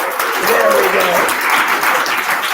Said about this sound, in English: We're gonna give you a big round of applause first.